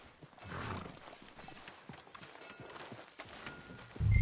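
Horse hooves clip-clop in a steady walking rhythm through a Western town in the Red Dead Redemption video game, moderately close, with a louder thump near the end.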